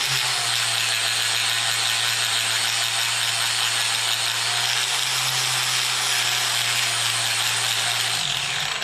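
Power tool with an 80 grit flap wheel grinding a drill fill auger on a Great Plains Solid Stand 1500 no-till drill, a steady continuous whine with an abrasive hiss running unbroken, then a brief change as it slows near the end.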